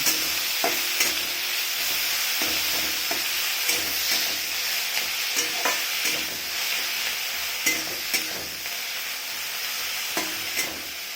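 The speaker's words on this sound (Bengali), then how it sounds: "সিদ্ধ করা শাকটা দিয়ে দেবো, কষাটা করে নেব।" Boiled mustard greens stirred and fried in a pan for a mash, a continuous sizzle broken by repeated scraping strokes at a steady rhythm, close and alone.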